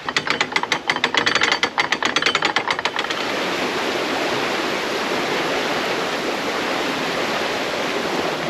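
Water pouring down the bywash beside a lock on the Llangollen Canal, a steady, broad rushing roar that runs evenly throughout, with some clicking mechanical rattles over it in the first few seconds.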